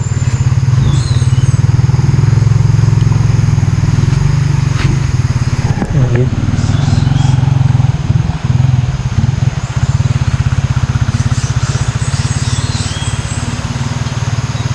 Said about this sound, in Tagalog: May mga paparating bro. Oo. Naka motorsiklo.